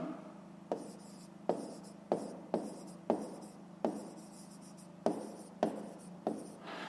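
A pen writes out a fifth-grade math solution on paper, with a series of short, crisp scratching strokes in irregular rhythm, close and quiet, about a dozen separate bursts.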